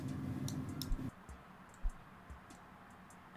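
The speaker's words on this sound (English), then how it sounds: "I can hear the clicking of your mouse." Sharp, faint computer mouse clicks come in a short irregular cluster and then trail off into a few sparse taps. They sit close to the microphone over a low hum, and no one speaks.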